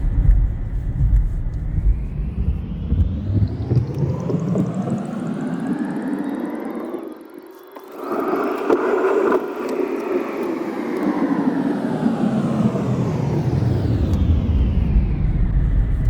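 Steady road and tire roar inside a Kia EV6 on new tires, cruising at speed as it loops around and heads back onto the highway. The broad rumble stays loud and continuous, dips briefly to a quieter patch midway, then swells back up. No one talks.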